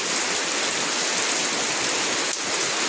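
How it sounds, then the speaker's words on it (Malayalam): Heavy rain pours down in a steady, dense hiss of drops striking surfaces, loud and unbroken throughout. "പക്ഷേ കണ്ടേ നല്ല മഴ"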